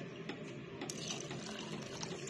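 Water poured from a glass into a cooking pot of coconut milk for biko, a steady close splashing pour lasting a couple of seconds with no talk over it.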